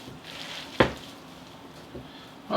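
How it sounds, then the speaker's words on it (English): A spinach pie filling with nutritional yeast is stirred in a bowl, giving a few soft, squishy scrapes and one sharper clatter close up, with no talking. "I'm just going to mix this all up."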